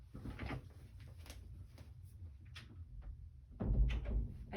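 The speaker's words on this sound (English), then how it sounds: "I forgot to close my door." A door being closed indoors, a soft clunk and shuffle near the end after quiet handling noises, fairly faint and close.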